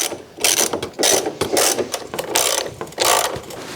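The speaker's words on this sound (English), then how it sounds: "And now I'm loosening the last bolt all the way while pushing up the trailing arm" A ratchet loosening a rear subframe bolt on a BMW E46 sedan, giving rapid clicking pawl bursts in an uneven rhythm, close and fairly loud with no talk.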